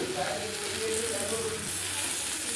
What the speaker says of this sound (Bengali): আর একটা ছোট টমেটো কুচো করে দিয়ে দিলাম একটু কষে নেবো ভালো করে